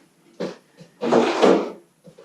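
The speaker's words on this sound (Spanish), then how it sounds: "Dejamos nuestra silla a un lado para que no nos moleste" A chair is shifted aside during an advanced maintenance exercise class, giving a short scraping knock followed by a longer, louder shuffling scrape, close by with no talk.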